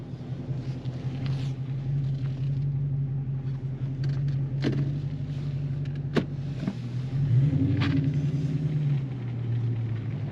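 Supercharged Edelbrock-powered 600 hp Dodge Challenger SRT8 Yellow Jacket pulling away, a steady close low engine rumble building as it drives off, with a couple of sharp clicks and a brief surge in revs near the end.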